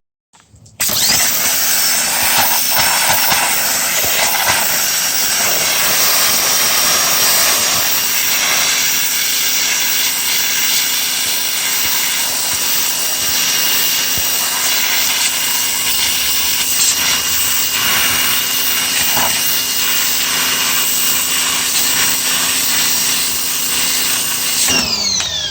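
Pressure washer spraying heavy dirt off a 1965 Mustang, a loud, steady broadband hiss of water jet and pump that runs continuously for the whole stretch, close to the listener with no talking.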